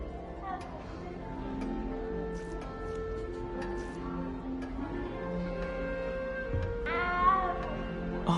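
Late in the stretch a single clear meow rises from a cat in Hogwarts Legacy, preceded by several seconds of steady ambient game music with faint ticks and murmurs.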